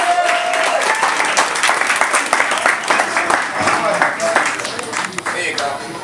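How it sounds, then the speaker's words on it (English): Audience applause at a celebration of life ceremony, dense and steady clapping from a crowd lasting throughout, with voices and cheers mixed in. "let's have a round of applause for her too"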